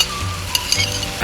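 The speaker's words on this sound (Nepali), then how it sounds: "म सबै मसला राखिदिन्छु।" Ground masala sizzles hot in a pan for a local chicken curry, a short steady frying hiss with a couple of light clinks from stirring.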